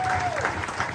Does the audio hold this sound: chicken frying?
no